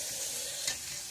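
Chow mein noodles being stirred in a hot pan, a close, steady sizzle with a soft scrape of the spatula partway through.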